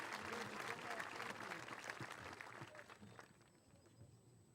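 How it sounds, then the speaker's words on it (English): A high school graduation audience applauds for the fathers present, dense clapping that thins and fades toward the end, with a faint steady tone over it. "how about a big round of applause for Father's Day tomorrow for all the dads out there in the audience?"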